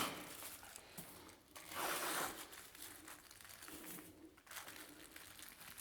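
Protective masking tape pulled off the roll and pressed onto a wall before airless painting, with soft crinkling and tearing rasps in a couple of bursts, faint and close, with no voices.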